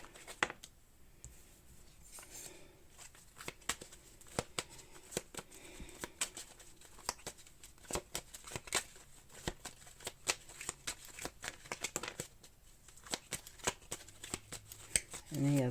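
Tarot cards shuffled by hand during a reading, a steady run of crisp riffling snaps and soft slides close up, with a voice talking faintly in the background.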